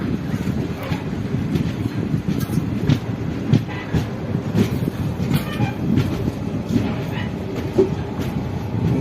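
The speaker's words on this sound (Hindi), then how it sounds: "और ये अब तो फाइनली हमारा ट्रेन डिपार्ट हो चुका" The 17603 Prashanthi Nilayam Express from Kacheguda to Yelhanka pulls away from the station, heard from on board. There is a continuous low rumble of the wheels on the rails, with rhythmic clatter and gusts of wind buffeting the microphone.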